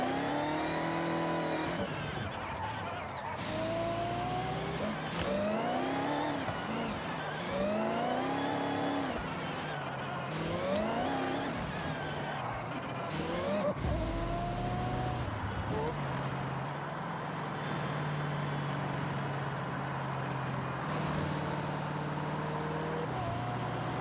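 Forza Motorsport car cruising through traffic in the game, engine tone rising and falling through repeated gear changes, with steady road noise and occasional passing cars, plus a voice talking over much of it.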